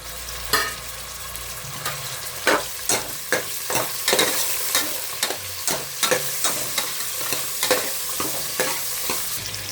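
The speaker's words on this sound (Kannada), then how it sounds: "ಇದನ್ನು ಹಾಕ್ಕೊಂಡು ಫಸ್ಟು ಆಯಿಲಲ್ಲಿ ಸ್ವಲ್ಪ ಫ್ರೈ ಮಾಡ್ಕೊಳ್ಳೋಣ" Mutton, onion and fenugreek leaves frying in oil, with steady sizzling broken by a dozen or so sharp, close stirring scrapes and knocks of a utensil in the pan, no voices.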